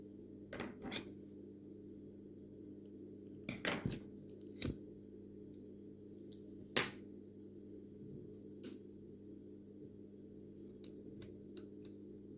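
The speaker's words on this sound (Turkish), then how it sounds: "Şuradan hemen şu kırmızı ipimi keseyim." Scissors snipping red thread during shuttle tatting lacework, a handful of short crisp cuts and clicks spaced apart over a faint steady background hum.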